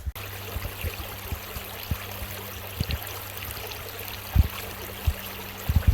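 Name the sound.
stream water at a hiking trail crossing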